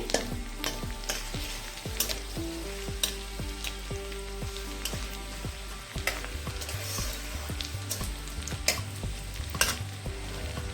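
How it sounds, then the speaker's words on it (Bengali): Chopped garlic fries in white oil in a pan, a continuous gentle sizzle broken by a steady rhythm of spatula scrapes and stirring clicks, close by and without speech. "রসুন কুচিটা তিরিশ সেকেন্ড একটু ভেজে নিচ্ছি"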